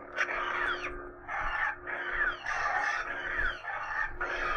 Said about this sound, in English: it'll make blaster reflex sound